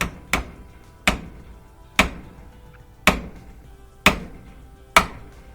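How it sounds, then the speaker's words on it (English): A drift pin is hammered to knock out a motor pin from a Yukon/Tahoe power seat, six sharp metallic knocks at roughly one-second intervals, each ringing briefly, close and alone. "We got a little drift pin, but you could use anything that gives you some extension"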